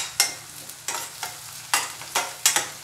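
Curry leaves sputter and sizzle in hot oil as spinach and egg fry is started, with regular stirring strokes every half second or so giving rhythmic scraping bursts over a constant close hiss.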